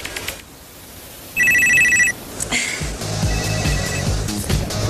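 A mobile phone plays its newly set ringtone, a short, loud electronic tone under a second long, followed by rustling room noise.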